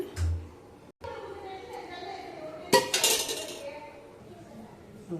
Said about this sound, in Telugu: ఫస్ట్ మనం ఒక ప్యాన్ పెట్టుకొని అందులో తగినంత ఆయిల్ వేసుకోవాలి